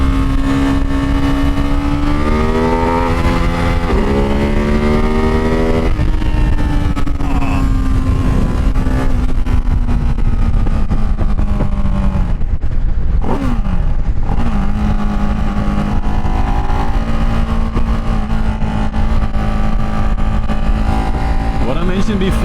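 A Ducati Hypermotard 698 motorcycle accelerating hard, its loud close engine note climbing through rising pitches with gear shifts, wind roaring throughout, while a rider talks over it.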